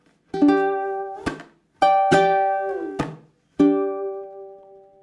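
Bright ukulele chords are strummed in a slow, separated pattern, each chord ringing out and fading before the next, close and clear.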